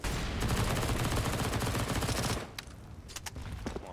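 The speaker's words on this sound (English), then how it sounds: "Bullets rattling through the smoke." Rapid gunfire in Counter-Strike as bullets rattle through smoke: a dense, continuous burst of automatic shots for over two seconds, then a few scattered single cracks as it dies down.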